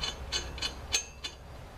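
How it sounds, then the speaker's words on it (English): A ratchet wrench running bolts up on a mini bike build outdoors at dusk, giving five short, crisp clicking bursts at an uneven rhythm, close and fairly faint over a low background hum. "Run our bolts up."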